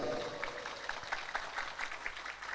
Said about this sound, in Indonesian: Sebelumnya tepuk tangan untuk 13 komunitas nih kau.